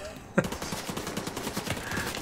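Rapid bursts of gunfire in The Division 2 rattle continuously, with a sharp louder shot near the start, no voices.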